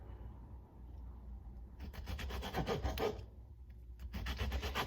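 A kitchen knife slices vegetables for salsa, giving bursts of close, rhythmic rasping strokes, a steady run in the middle and a shorter run at the end, with no talking.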